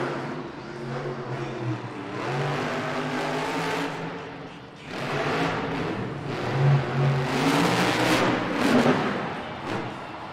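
The JCB Tigatron monster truck's engine roars through a racing run at a Monster Jam event in Buffalo, NY, surging and easing in repeated heavy revs, loud and echoing across the arena.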